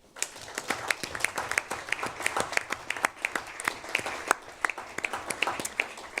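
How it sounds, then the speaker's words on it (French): Applause during a municipal council meeting: a room of council members claps steadily for several seconds, the individual claps distinct and moderately close, with faint murmuring underneath. "je vous propose qu'on vous applaudisse"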